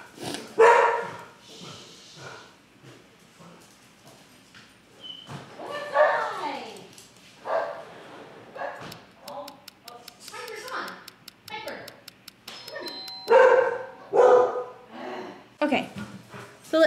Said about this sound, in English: Dog barks.